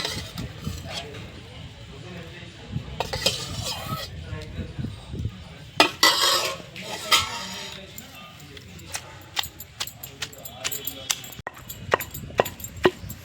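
Dried chillies are pounded by hand for an old-style boiled raw tamarind pickle, giving irregular dull thuds and sharp knocks at close range while someone talks over them.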